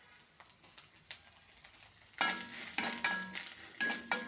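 Faint taps at first, then a spatula scrapes rhythmically through dry grated coconut roasting with turmeric powder in a pan, close and repeated.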